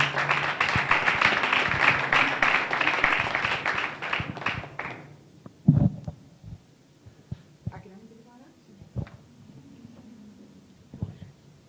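An audience applauds for the minister at a UNESCO national commission opening, a dense burst of clapping that lasts several seconds and then fades into a few scattered claps and some talk.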